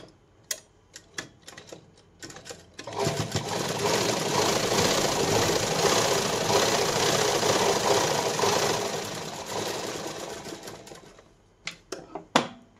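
A sewing machine stitching blouse fabric: a few single needle clacks, then a long continuous whirring run of several seconds, then more scattered clacks as it slows and stops, close and clear, no talking.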